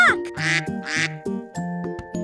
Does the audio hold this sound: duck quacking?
yes